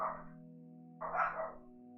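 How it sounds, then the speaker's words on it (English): Two household dogs bark in two short bursts, a brief bark at the start and a longer, louder volley about a second later, heard faintly from a room away over a steady electrical hum. "oh, there go my dogs"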